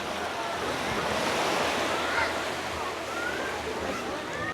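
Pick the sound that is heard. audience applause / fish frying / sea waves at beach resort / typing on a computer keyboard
sea waves at beach resort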